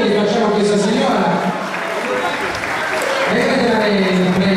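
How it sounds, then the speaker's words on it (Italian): An audience applauds a woman at an evening event at the Eliseo, steady clapping under a voice talking over it, with a brief dip in the middle before the clapping swells again. "Però è un applauso sportivo che facciamo a questa signora."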